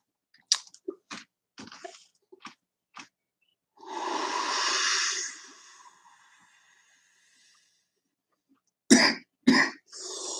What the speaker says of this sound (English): you may get a couple of coughs after this one.